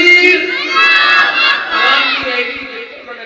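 A large crowd at a religious gathering roars a loud, sustained slogan in unison in answer to a leader's call, voices swelling and overlapping for several seconds.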